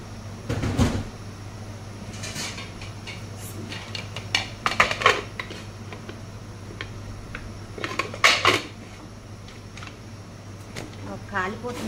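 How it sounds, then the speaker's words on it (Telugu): Metal lid set onto a cooking pot in a home kitchen while a curry simmers, with several sharp clanks and clatters of cookware spread over a quiet background hum and some soft movement. "ఇప్పుడు ఇది మూత పెట్టి ఉడికించుకుందాము"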